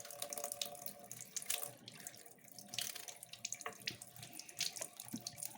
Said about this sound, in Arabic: بننضف البطاطا ونغسلها كويس